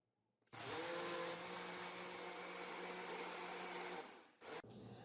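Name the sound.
blender blending greens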